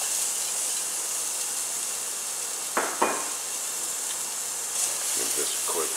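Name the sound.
onions frying in hot oil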